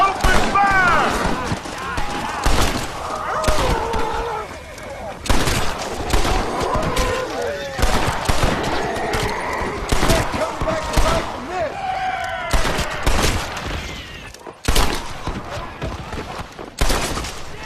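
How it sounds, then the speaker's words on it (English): Dense, rapid gunfire in the zombie-infested Old West of Red Dead Redemption: Undead Nightmare, loud bursts of shots and impacts cracking almost continuously with brief lulls, while shouting voices cut in over the shooting. "Keep shooting, there's still a few left! Here come more of the bastards! Open fire!"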